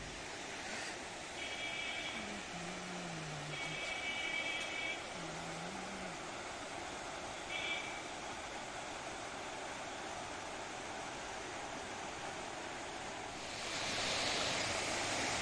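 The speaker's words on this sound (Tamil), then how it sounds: "தண்ணி நிறையா போகுது" A stream in Yercaud flows continuously with a broad hiss, a few faint distant tones and a brief louder surge near the end.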